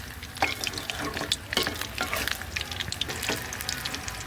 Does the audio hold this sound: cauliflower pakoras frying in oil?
yes